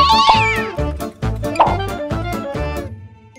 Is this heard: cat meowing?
yes